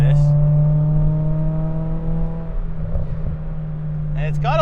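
A small manual car's engine hums steadily and close while driving, with a rising rev toward the end and someone talking over it.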